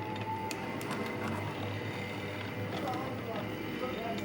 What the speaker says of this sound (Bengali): অটোমেটিক কয়েল বাঁধাই হইতেছে।